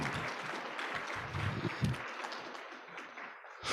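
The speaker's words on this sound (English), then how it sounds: "So let's give a huge round of applause for Peggy." An audience at a general session of a conference gives a round of applause, fairly faint and distant clapping that thins out and fades toward the end.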